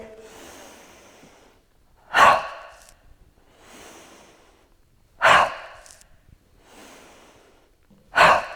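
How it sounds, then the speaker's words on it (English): A repeating pattern of softer breathy exhales followed by sharp, loud nasal sniffs during a seated Pilates chair workout, three sniffs spaced evenly apart, close and clear with no talking. "It's a forced out breath and a sniff through the nose."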